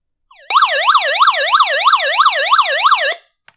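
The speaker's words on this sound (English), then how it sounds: "That was the SOS siren, which is nice" A loud electronic SOS siren from a handheld emergency radio wails in fast, regular up-and-down sweeps for about three seconds, then cuts off abruptly, with a brief click afterward.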